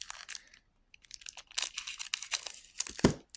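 Scissors snipping and tearing into the foil wrapper of a World of Warcraft trading card pack, a close crinkling, crunching rustle in short bursts with a brief pause, ending on a sharper rip.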